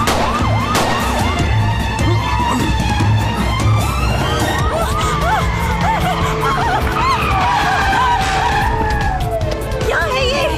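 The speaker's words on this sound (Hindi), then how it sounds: "गाड़ी जरा तेज चलाओ तुम।" A car speeds away in a police chase, tires skidding and squealing in repeated close swoops while sirens wail continuously and loudly and voices shout over the din.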